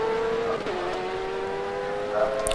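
A BMW race car at Sebring locks up and slides sideways into a turn, its engine note holding a steady tone with a short dip as it scrubs, heard from a distance on track.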